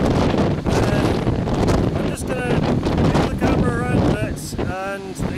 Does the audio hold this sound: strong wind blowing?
yes